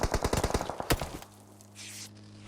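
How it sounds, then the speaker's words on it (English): Rapid bursts of distant automatic gunfire in a PUBG Mobile esports match, a quick rhythmic string of shots for about a second, then quieter ambient hum and wind. "Now shots from all over flying towards him"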